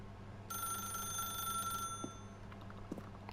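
A telephone rings in the video game The Stanley Parable, a bright trilling bell that rings once for about a second and a half against a soft background hum, followed by a few faint clicks.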